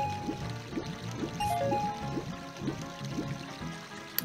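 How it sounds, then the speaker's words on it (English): Link splashes into a castle moat and swims through the water in Zelda: Ocarina of Time on N64, with rhythmic repeating stroke splashes over a steady watery game backdrop and a brief chime. "Jump right into the moat here. Swim along, collect some rupees."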